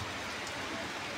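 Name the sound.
rain falling during sunshine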